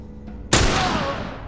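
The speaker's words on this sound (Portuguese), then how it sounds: "Mesmo com o tiro de espingarda na cara, o cara não morre dele." A shotgun blast in The Last of Us goes off loud and close after a brief near-silence, its single sharp crack rolling into a long, decaying boom.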